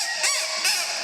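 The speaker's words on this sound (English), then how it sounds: "I was squawking like a mad one on this Acme squawker that I had that sounds like a crow." Harsh, crow-like squawks from an Acme squawker bird call used as a Foley effect, two loud bursts in quick succession filling the short stretch with no other sound.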